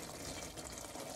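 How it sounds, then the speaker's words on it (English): A tablespoon of vanilla hits a hot mixture and fizzes, a brief dense hissing sizzle with fine bubbling, faint and steady. "Tablespoon of vanilla, and it is going to bubble up"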